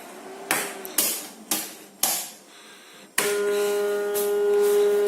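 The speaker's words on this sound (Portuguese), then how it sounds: "Vou ligar aqui a máquina." A coxinha savory snack molding machine, a Compacta Print, thumps four times in an even rhythm, then starts a steady loud mechanical whine and hum that carries on close by.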